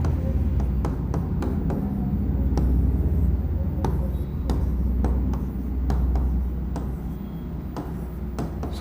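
Pen or marker writing out a math solution, a continuous scratchy stroking with quick sharp ticks and taps as figures are jotted down, close and steady throughout with no talking.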